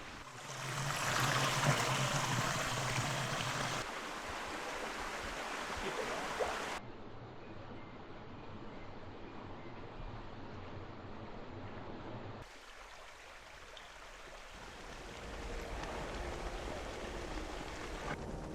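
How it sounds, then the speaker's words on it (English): A forest waterfall in Greece gives a steady, broad rushing roar of falling water that stays continuous throughout, shifting in level a few times but never stopping. "I can hear a waterfall."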